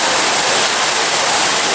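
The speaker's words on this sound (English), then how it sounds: "You do splash into a 10-foot pool from about 6 feet off the water." Rider plunging into a 10-foot pool at the end of a water slide at Volcano Bay water park, heard as a loud, steady rush of splashing water close by, with no voices.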